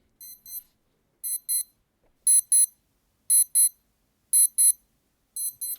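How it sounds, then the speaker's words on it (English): Alarm tone of a Skmei 2100 digital watch: crisp high-pitched double beeps repeating about once a second, six pairs in a row, clean and close with silence between them. "So this is what the alarm sounds."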